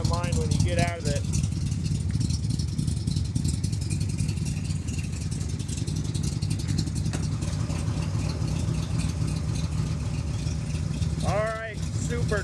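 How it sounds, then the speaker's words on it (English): A 1969 Chevrolet Corvette with a cammed 454 big-block V8 and side pipes idles close by, a loud, steady, deep lumpy rumble throughout; a voice speaks briefly at the start and near the end. "That is a 454 big block. Definitely has a cam in it. You can hear it."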